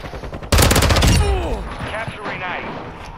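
Rapid automatic gunfire from a shooter video game bursts in loud and dense at about half a second and keeps rattling for the rest of the clip. Shouted voices and in-game speech run over it from the midpoint onward.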